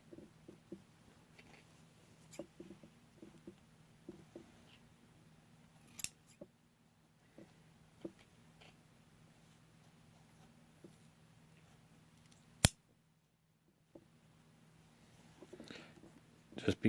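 Scissors snip through sleeve fabric in sparse, faint, close clicks and cuts scattered across a quiet room, with one sharper snap partway through.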